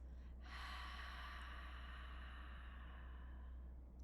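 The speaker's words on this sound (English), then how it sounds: "now exhale through the mouth" One long, slow exhale through the mouth, a soft breathy rush that starts with a short intake and continues steadily for several seconds, close and quiet over a low hum.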